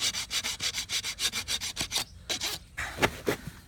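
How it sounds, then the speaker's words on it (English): A farrier's rasp scrapes the sole and frog of a horse's hard, well-developed desert hoof in a steady series of rhythmic strokes, close and clear, pausing briefly before a few slower final passes. "get as much of this frog as I can with a rasp"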